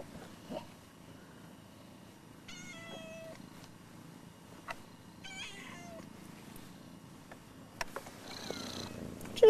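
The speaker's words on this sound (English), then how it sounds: "You're stepping on the cats, too." Several cats close by, softly purring under a low rumble with a few short, high meows scattered throughout and a louder, drawn-out cry near the end.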